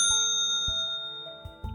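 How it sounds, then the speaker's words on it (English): A single bright chime from a bus stop bell at the back of a bus rings clearly and decays slowly, with soft thumps of the moving bus around it. "Then the bell rang."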